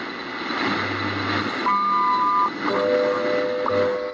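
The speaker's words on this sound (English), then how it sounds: "that rapping, beeping in the background, that's the RWM time signal in Moscow on 14996" An RWM Moscow time signal on shortwave radio sounds as a few steady tones partway through, under a constant band of static and hiss.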